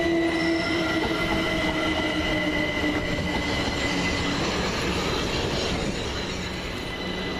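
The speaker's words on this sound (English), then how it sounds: "Next up, the 1558 Southern Railway service from Milton Keynes Central to South Croydon." A Southern Railway Class 377 electric multiple unit rolls through East Croydon station, a steady loud rumble of wheels on rail with squealing tones and faint clickety-clack throughout, fading slightly toward the end.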